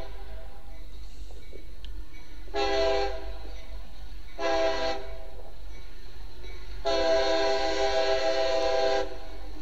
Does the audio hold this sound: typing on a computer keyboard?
no